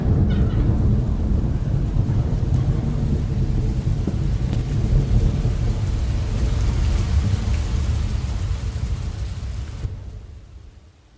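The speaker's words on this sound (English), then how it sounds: "A rain shower." Steady rain shower with distant thunder rumbling underneath, a dense continuous hiss that fades out near the end, with no voices.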